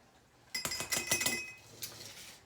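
Cake batter with salt being mixed in a bowl, a quick run of clinking, scraping strokes against the bowl at a steady rhythm, fairly quiet and close, no speech.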